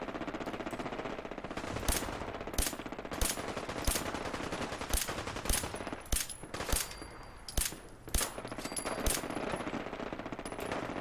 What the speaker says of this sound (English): I like how I'm just shooting these super mutants